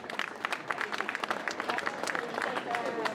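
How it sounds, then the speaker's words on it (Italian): A cabaret audience in a Sicilian town bursts into brisk, crowded applause with distinct individual claps and some voices mixed in. "Fate un applauso, pronti, via!"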